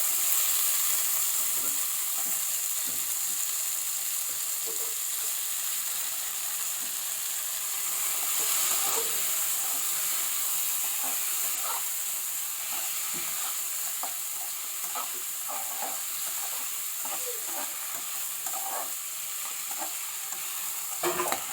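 Peeled tomatoes fry in a pan with a soft, constant sizzle and hiss, while stirring adds scattered light clinks and scrapes throughout, heard up close with no speech.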